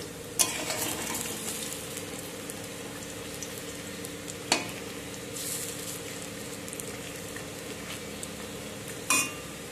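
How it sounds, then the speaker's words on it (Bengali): Oil sizzles steadily as onion pakoras fry in a kadai, with a few sharp clinks of a utensil against the pan. "বাকিটাও আমি কড়াতে দিয়ে দিলাম। এগুলো আমি ভেজে নেব"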